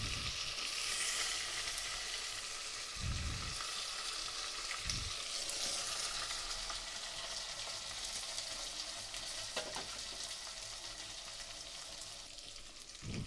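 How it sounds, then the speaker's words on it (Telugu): Brinjal pieces fry in a hot pan with a steady close sizzle, a few stirring scrapes and soft clatters breaking through; no voices. "ఇప్పుడు ఇందులోకి మనం కట్ చేసి పెట్టుకున్న వంకాయ ముక్కల్ని యాడ్ చేసుకోవాలి"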